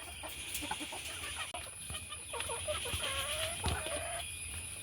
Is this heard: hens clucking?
yes